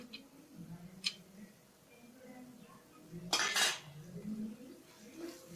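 Bread halwa with cardamom and cashews stirred in a pan, a metal spoon scraping and clinking against the pan in irregular strokes, with one brief louder clatter midway, close and fairly quiet.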